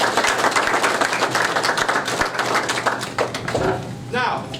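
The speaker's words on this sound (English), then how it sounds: "So let's please give them a round of applause." Applause at a university press conference announcing a new head football coach, a dense steady clatter of many hands clapping through most of the clip, fading near the end as a voice begins speaking.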